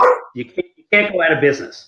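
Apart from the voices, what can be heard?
dog barking in an office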